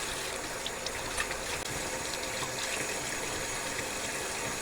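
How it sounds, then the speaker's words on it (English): A kitchen tap running while food is prepared, a quiet, steady hiss and splash of flowing water holding at an even level throughout, with small clinks and taps of handling in the sink. "Turn the water off."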